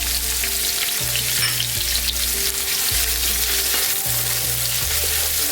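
Onions and garlic ginger paste fry in a pot for a vegetable biryani, a loud, steady sizzle with soft stirring scrapes and low tonal hum underneath, continuous throughout without any talk.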